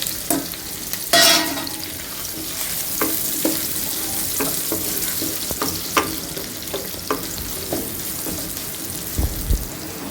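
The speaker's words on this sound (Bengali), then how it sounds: "এখন ওই তেলের মধ্যেই পেঁয়াজ কুচি, রসুন কুচি, কাঁচামরিচ দিয়ে দিলাম" Chopped onion, garlic and green chili fry in oil left over from frying fish. A steady, close sizzle runs throughout, broken by sharp clacks and scrapes of stirring, with no talk.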